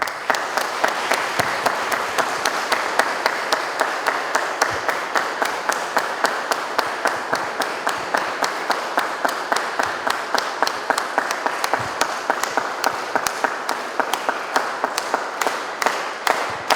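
Church congregation gives a loud, sustained round of applause for a newly ordained pastor at his ordination service, dense steady clapping with sharp individual claps throughout, no talk over it.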